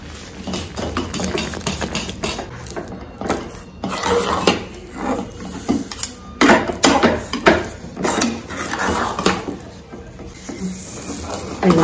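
Sweet kozhukattai dough beaten in a metal pot with a whisk rod gives rapid, irregular clanks and scrapes of metal on metal, loud and close, with brief pauses between bursts of stirring.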